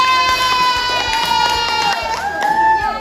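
Fourth-grade classroom children applaud and cheer for a group, with bright shouting voices and scattered claps over a steady tonal background hum, loud and close throughout.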